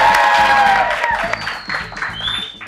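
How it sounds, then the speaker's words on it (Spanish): A crowd at a political event claps and cheers, with whoops rising through the dense applause, loud at first and easing off, as a voice speaks over it. "¿Cómo está el aplauso?"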